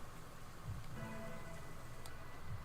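Gentle rain falling in the video game Master Detective Archives: Rain Code, a soft steady patter that holds at an even level for the whole stretch, with faint ticks now and then and no voices.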